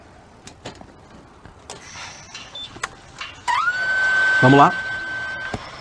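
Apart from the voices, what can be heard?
electric motorcycle being switched on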